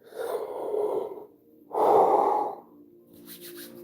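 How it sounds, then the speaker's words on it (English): A man gives a long, breathy yawn: a drawn-out exhale, a short pause, then a louder, stretched second swell that fades off. No talking is heard. "So let me yawn."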